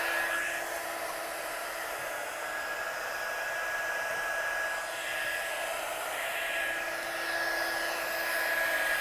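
An embossing heat gun runs steadily at close range as it heats stamping powder, a continuous whooshing blower hum with a faint high whine, holding an even level throughout without a break.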